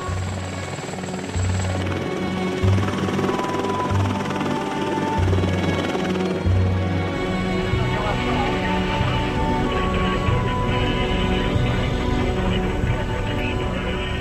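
A firefighting crew transport helicopter drones steadily nearby, its rotor thumping in a low pulse throughout, loud and continuous with no talking.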